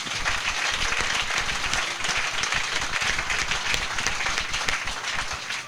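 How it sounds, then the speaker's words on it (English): A congregation of men applauds together in a church service, a steady, dense clapping that fills the room for several seconds without letting up. "Can we clap for our women, please?"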